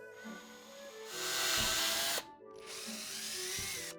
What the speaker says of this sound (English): I'll first drill out a couple cavities